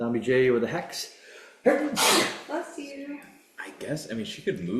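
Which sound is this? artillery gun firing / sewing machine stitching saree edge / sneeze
sneeze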